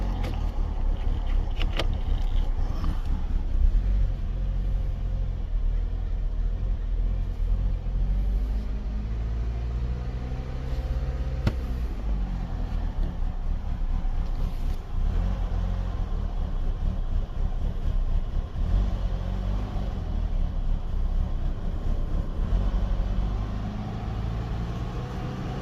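A Chevy Cobalt SS engine idles steadily after an engine replacement, running low on old gas, with a continuous low rumble and a few faint clicks over about 25 seconds.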